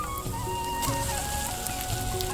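Fried pointed gourd goes into hot spiced oil, giving a steady crackling sizzle that fills the clip at moderate volume, with no voices.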